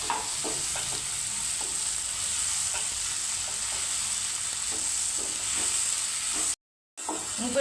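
Dried prawn and tomato curry cooking in a pan, with a continuous soft sizzle and hiss and intermittent scraping as it is stirred, broken by a brief silent gap near the end.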